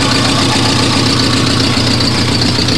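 A Suzuki Samurai engine idles steadily and loudly, a constant close-up rumble with the air breather removed and no other sounds over it.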